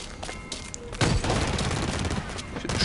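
Dense automatic gunfire in the online shooter Blacklight Retribution during a capture-the-flag match, starting abruptly after a second of quieter game sound and continuing as a loud, rapid fusillade.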